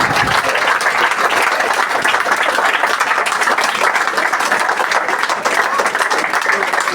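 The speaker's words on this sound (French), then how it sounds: "Je voudrais qu'on les applaudisse tous pour leur travail." A crowd applauds volunteers from local sports and cultural associations at a municipal bouillabaisse gathering in Saint-Mandrier: steady, dense clapping from many hands, loud and close, sustained without a break.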